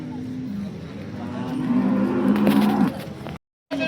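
A horned cow at the Sangola cattle market in Maharashtra gives a long, loud, drawn-out moo close by, with market noise and voices in the background, followed by a brief silence.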